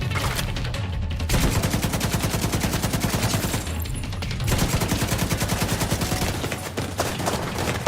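An enemy turret in The Division 2 fires continuous rapid bursts, a dense rattling stream of shots close and loud, briefly pausing twice before hammering on again.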